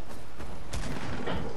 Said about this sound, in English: I'm gonna shoot you with a shotgun!